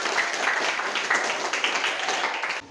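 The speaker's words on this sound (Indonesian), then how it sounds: "Tepuk tangan untuk dia." Pupils in a classroom give a brief burst of applause for a classmate, a lively patter of many hands clapping for a few seconds before fading out.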